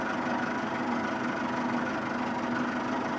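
A Massey Ferguson 675 tractor fitted with an MF80 loader idles with a steady, even diesel rumble at moderate loudness, with nothing else heard over it.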